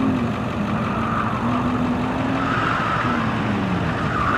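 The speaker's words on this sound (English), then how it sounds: "I can't get over the sound of that car" A Kleemann-tuned Mercedes C55 AMG engine roars loudly and continuously through an autocross run, its pitch rising and falling as it accelerates, shifts and brakes between cones, with faint tyre noise underneath.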